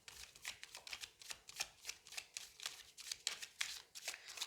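Tarot cards are shuffled in a quick, steady riffle of soft papery flicks for several seconds, quiet and close, with no voices.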